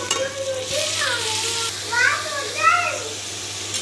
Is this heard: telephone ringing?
no